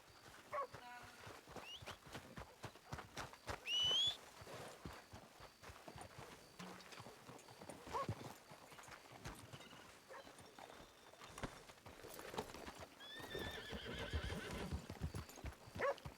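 Repeated neighs and whinnies from a Shire horse in a video game ring out over rapid, busy galloping hoofbeats, with a loud burst near the middle and more calls toward the end.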